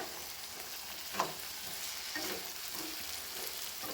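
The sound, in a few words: pulao ingredients frying in oil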